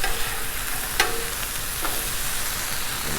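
Flank steak stir fry sizzling on a Blackstone griddle for beef and broccoli, a steady close hiss with a couple of brief scraping clicks of the spatula as pieces are flipped.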